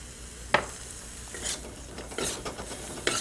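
Cauliflower and green peas with fresh cream and coriander being stirred and folded in a pan, giving soft scraping and light sizzling with a few faint utensil clinks.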